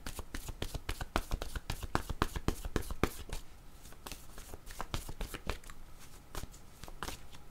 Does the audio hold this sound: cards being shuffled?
yes